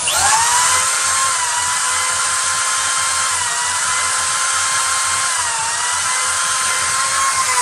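A power drill bores a rivet hole in a metal tube, producing a loud, steady high-pitched whine close up that holds for several seconds with slight pitch dips.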